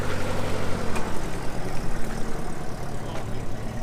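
The four-cylinder engine of a front-wheel-drive Citroen GS runs steadily at close range at an outdoor French 2CV car show, with a continuous low, even drone and no talk over it.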